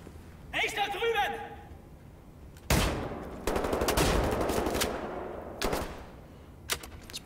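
Shotgun blasts in the shooter game Wolfenstein: The New Order, several loud booming shots with echoing tails spread across the stretch, broken by short quieter gaps and scattered game noise.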